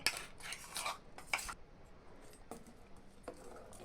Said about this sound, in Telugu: పాలల్లో బాగా కలిసేటట్టుగా ఆ పేస్ట్ కలపాలి